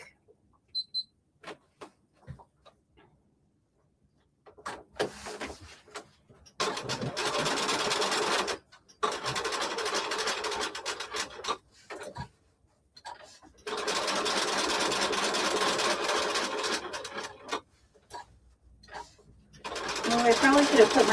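Sewing machine top stitching a pocket on a fleece vest, running in several sustained bursts of steady whirring separated by pauses and short stops, loud and close.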